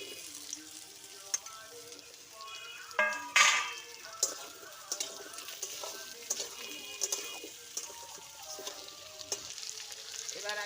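Potato and pumpkin pieces frying in a pan of onions and chilli, with a steady sizzle broken by clattering stirs and utensil scrapes, close up and loud, with no talking.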